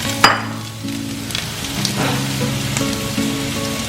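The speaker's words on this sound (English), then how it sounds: "I'm going to fry them for a while" Mushroom cutlets frying in oil in a pan, a steady close sizzle with crackles and a sharp clatter near the start, while a tonal background hum runs underneath.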